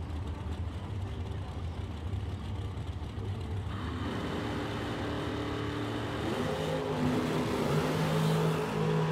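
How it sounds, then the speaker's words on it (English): Drag racing cars launch down a Super Pro drag strip, a steady engine roar swelling into a louder, rising acceleration midway, heard from some distance. "Nice wheels up lead for Caroline."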